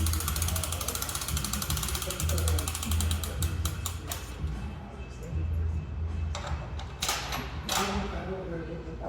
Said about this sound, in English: pull the safety pin, ratchet it up.